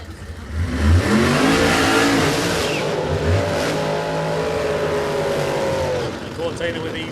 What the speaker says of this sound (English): Cortina with his renowned rolling burnout